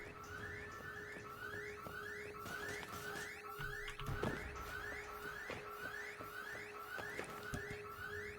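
A repeating security alarm in the video game Syndicate, a steady rising electronic whoop cycling roughly every second over a constant tone and a busy background of game effects and thuds.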